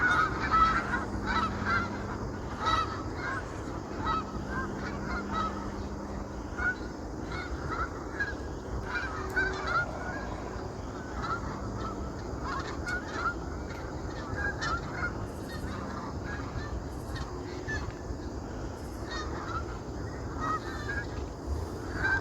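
Snow geese honking steadily among Arctic ice floes, a dense chorus of many birds calling near and far, layered continuously over a low background rumble with no speech.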